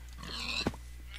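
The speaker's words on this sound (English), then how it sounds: "I just want the pig." A pig in the modded video game Minecraft Tekkit Legends lets out a single short, faint oink over a quiet background.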